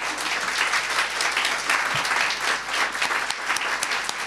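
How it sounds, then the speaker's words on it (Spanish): Audience applauding two children's book authors at an arts, education and children's literature event: steady, dense clapping from a full room, continuous and fairly loud for several seconds. "un aplauso claro, por supuesto."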